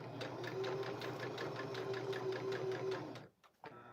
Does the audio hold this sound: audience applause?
no